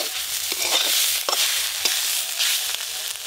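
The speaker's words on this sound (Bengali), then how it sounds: "শাক তো খুব ভালো করে ভাজা হয়ে গেছে, সবশেষে একটু পোস্ত দিয়ে লাভিয়ে নেবো।" Red amaranth greens fry in a pan under a soft, constant sizzle, broken by several sharp scrapes and knocks from a stirring spoon at irregular intervals, with no speech.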